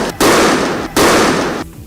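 Police fire tear gas shells at protesters, two loud, broad bursts of blast noise, each ringing on for most of a second after a sharp onset, close and harsh with no speech over them.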